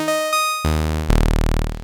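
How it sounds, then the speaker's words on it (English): An initialized default preset on Ableton's Analog synth plays a few sustained, buzzy tones, starting with sparse held notes and moving into denser, brighter chords with a rapid pulsing texture at the end. "I've dragged in an instance of Analog, just the basic kind of initialized preset, which sounds like this."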